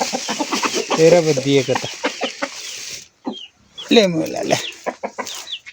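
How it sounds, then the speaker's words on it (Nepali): Chickens cluck close by at a backyard coop, a busy run of short calls. A person speaks loudly over them, then pauses, and more clucking follows. "यो चाहिँ मेरो कुखुराको खोर है"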